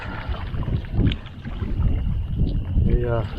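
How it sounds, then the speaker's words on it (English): Canoe paddled on Johnson Lake in the Boundary Waters, soft rhythmic paddle strokes and water swishes close by, with wind buffeting the microphone and a voice speaking briefly. "So this is Carl that I'm paddling with here."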